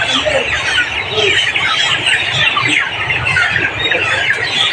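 Many chickens cluck and squawk together in a dense, constant chorus, close by and filling the inside of a poultry house.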